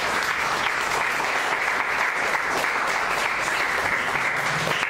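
A church congregation gives a sustained round of applause offered to Jesus during a sermon, an even, full-room roar of clapping that stays at a constant level from start to finish with no talking heard.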